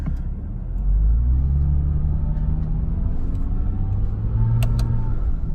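A Porsche Cayman with a manual-mode gearbox pulls away and shifts up into second gear, its engine a steady close, loud low rumble that swells and then changes pitch with the shift.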